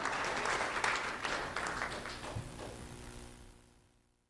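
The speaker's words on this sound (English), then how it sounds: "A round of applause for Joseph Estevez" An audience at a sheriff's office award ceremony honouring a middle school student claps in sustained, dense applause that slowly tapers off and fades to quiet at the end.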